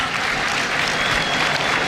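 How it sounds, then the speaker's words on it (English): A football crowd at a Carlisle United versus Boreham Wood National League play-off semi-final applauds a substituted player leaving the pitch, with steady, dense, far-off clapping throughout that never swells or fades. "Applause for Georgie Kelly going out."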